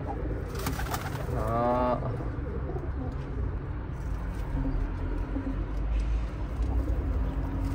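A turtle dove coos in a short, soft rolling phrase at mid distance over a constant low background hum, with occasional faint noises following.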